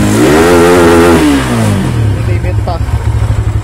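A Sigma 250 motorcycle fitted with a touring camshaft, its carburetor not yet tuned, revs loudly up close, then settles into a steady, slightly clattery idle while someone talks over it.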